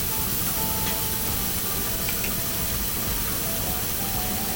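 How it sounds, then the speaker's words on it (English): A steady broadband sizzle fills the whole clip, garlic frying in hot oil until brown, constant and fairly loud with no talking. "And then I'm gonna add the garlic. And fry"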